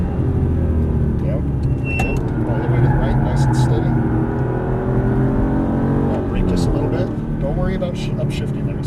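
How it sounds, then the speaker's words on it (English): An Aston Martin V8 Vantage engine roars at full throttle on a race track, a loud sustained climbing drone heard from inside the car with quick shift breaks, while an instructor talks over it. "Now accelerate all the way out to the edge. Full throttle."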